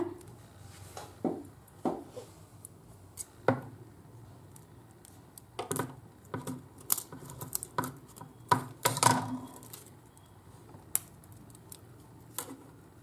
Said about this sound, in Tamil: இதை நமக்கு தேவையான சைஸ்க்கு கட் பண்ணிக்க போகிறோங்க